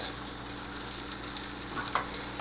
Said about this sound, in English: Melt yourself a tablespoon of butter in a pan about medium high and add your onions.